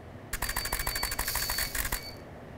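A camera shutter fires in a rapid continuous burst while held down during a food shoot with rice and a spoon. The clicks are close and crisp, about a dozen in quick regular succession, then the burst stops.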